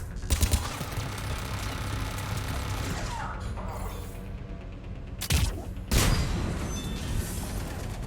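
Turret gunfire rattles through a Mass Effect 3 battle, a dense, loud, continuous barrage with two sharper bursts near the end, no talk over it.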